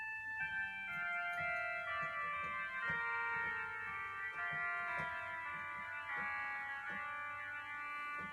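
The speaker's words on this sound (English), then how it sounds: "An oboe sound on its own would be a sound like this." An oboe stop on an electronic organ sounds alone, with sustained reedy held notes and chords moving slowly at a soft, steady level without any voices.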